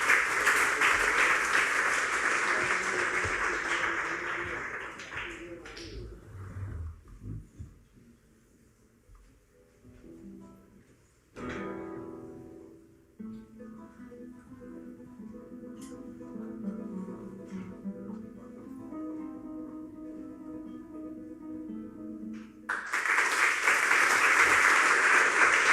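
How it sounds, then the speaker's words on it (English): Loud audience applause in a hall at a graduation ceremony greets a musical performer, fading into quieter room sound with faint music, then a second strong burst of clapping near the end. "please give him a round of applause and welcome him on the stage"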